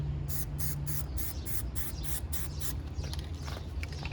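Aerosol Plasti Dip sprayed in a rapid series of short, even bursts onto a BMW X5 M Sport emblem, about ten hisses in quick succession, close and fairly quiet, followed by faint handling noises.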